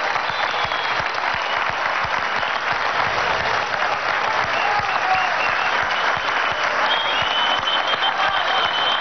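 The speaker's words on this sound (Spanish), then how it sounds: "Un aplauso a estos nuevos profesionales." At a university graduation ceremony for 239 graduates of the Universidad Bolivariana de los Trabajadores, a large crowd applauds in a loud, dense, steady roar that continues unbroken throughout.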